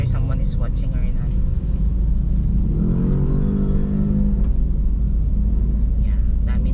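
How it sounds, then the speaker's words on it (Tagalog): Dense road traffic with many vehicles going past, a constant low rumble with one engine swelling and fading nearby, heard from inside or beside the road while a voice talks over it. "Yeah, dami ng sasakyan."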